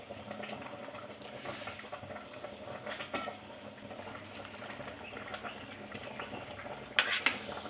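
Rice for pulao is stirred in a pot, giving soft scraping and clinking of a utensil against metal in a quiet kitchen. A couple of sharper clanks come near the end, with no talking.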